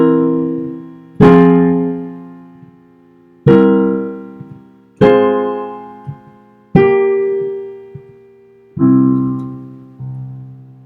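Piano bass line with chords from Beethoven's Piano Sonata op. 2 no. 1, realized as figured bass: six loud sustained chords struck slowly one after another, each decaying before the next, with no talking.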